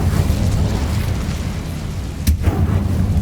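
A fire spell cast in Hogwarts Legacy, heard as a continuous low rumbling roar with a sharp burst flaring up near the end, loud and dense throughout.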